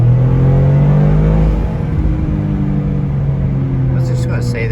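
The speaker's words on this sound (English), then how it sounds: "I'm starting to get used to the sound of the three-cylinder exhaust note" A 2023 Toyota GR Corolla's three-cylinder engine and exhaust accelerating, giving a loud, close rumbling drone whose pitch rises and then eases off, with no talking.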